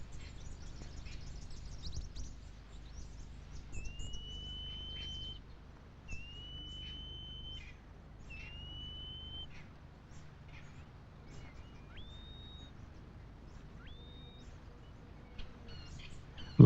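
Beautiful firetail grassfinch calls: a run of thin, drawn-out high whistles repeated about five times at steady intervals, clear but moderately faint over a soft outdoor background.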